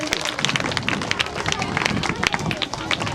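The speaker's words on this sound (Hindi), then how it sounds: "इनके लिए ताली होना चाहिए।" Crowd applause for a guardian at a Gyan Sagar public residential school event in Rehra, Latehar: steady, dense clapping with crowd noise and babble running the whole time, fairly loud and close.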